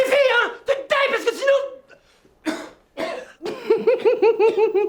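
A man coughs repeatedly in harsh, close bursts, with short pauses between fits and a rapid run of coughs near the end.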